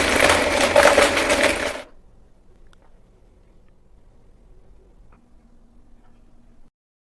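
A blender whirs loudly through milk, frozen fruit, Greek yogurt, whey protein powder and ice cubes for under two seconds, then cuts off abruptly, leaving quiet room tone with faint clicks.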